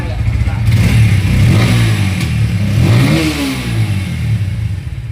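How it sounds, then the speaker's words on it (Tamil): A 2022 Bajaj Pulsar 150 motorcycle engine revs up and down close by, loud throughout, with people speaking over the running engine. "ஒரு இன்ஜின் சவுண்ட் மட்டும் கட்டுங்களா"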